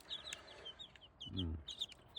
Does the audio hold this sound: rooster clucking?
yes